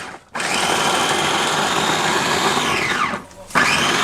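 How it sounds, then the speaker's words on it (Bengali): An electric mini chopper chopping ginger, garlic and onion, a loud, high whirring motor that runs steadily for about three seconds, winds down, then briefly starts up again. "আমরা যে আদা রসুন পেঁয়াজ বাটি অ্যাকুরেট মানে হবে এটা দিয়ে কুচি কুচি করি"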